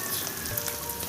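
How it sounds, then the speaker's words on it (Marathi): Catla fish placed into hot oil on a griddle over a wood-fired village stove gives off a steady, soft sizzle and crackle of frying, fairly quiet and continuous with no voices. "आता मम्मी तव्यावर आपली फिश टाकते."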